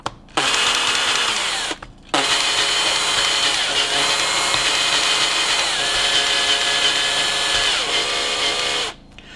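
Electric drill lapping engine valves, whining loudly and steadily with two brief stops where the motor cuts out and restarts, close up and alone.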